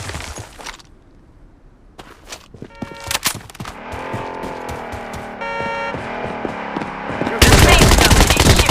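Gunfire in the battle-royale mobile shooter BloodStrike: scattered shots and bursts over engine and game sounds, building into dense, loud continuous noise near the end.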